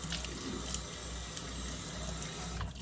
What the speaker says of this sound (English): Take some cool water, and now rinse that off.